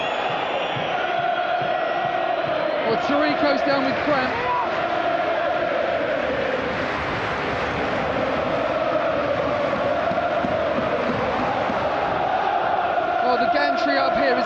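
A football crowd roars and cheers continuously in a packed stadium near the final whistle of a cup semi-final, a loud dense wall of sound with a commentator talking over it.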